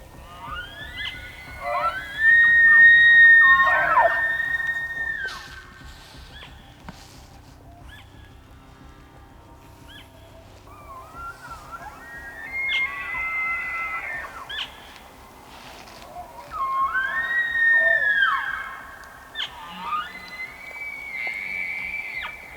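Bull elk bugle before dawn in New Mexico, with high, rising screams and grunting calls in two long bouts separated by a quieter gap. The calls carry at moderate distance, with no talking.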